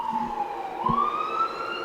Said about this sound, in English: why is there always sirens in the background to these videos?